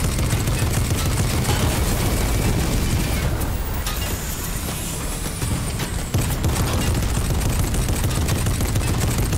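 Dense, continuous gunfire rakes a tank in a Fortnite match, rapid shots layered over loud, unbroken battle noise with no pauses.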